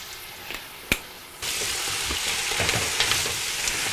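Oregano, parsley and other herbs and spices hit hot, bubbly oil with a sudden loud sizzle after a couple of faint clicks, then keep frying steadily while being stirred.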